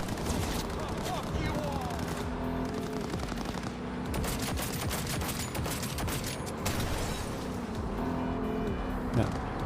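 In the Cyberpunk video game's Night City, a car engine drones steadily while rapid bursts of automatic gunfire crackle repeatedly over it, dense and continuous, with speech mixed in.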